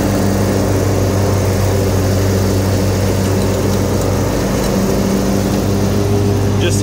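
A Craftsman 42 inch zero turn riding lawn mower runs steadily nearby, a loud continuous engine drone with a strong low hum and blade whir throughout.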